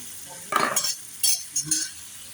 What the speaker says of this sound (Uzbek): Mana vaqt soat keldi, sabzi solinyapti.